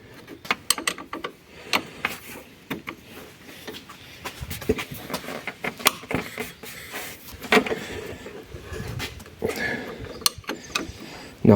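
Ratchet working a bolt loose on a power steering pipe of an Alfa Romeo 2.4 or 1.9 MultiJet, a run of quick close metallic clicks and ratcheting bursts with handling noise in a workshop.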